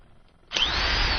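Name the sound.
power drill running in the studio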